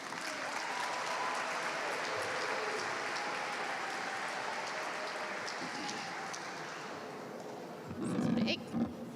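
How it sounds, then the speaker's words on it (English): A crowd at a state house rally applauds steadily and at length, the clapping dense and even, with a brief burst of voices and cheering near the end. "Please give her a round of applause."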